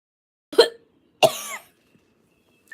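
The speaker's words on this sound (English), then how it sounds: "I'm sorry. I'm like coughing." A person coughs twice, sharp and close, separated by a short pause with near silence around them.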